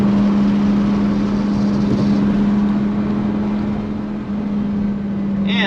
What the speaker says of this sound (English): whenever you go underneath one of these overpasses, you have to stomp on the gas. That's the rule, because it sounds so good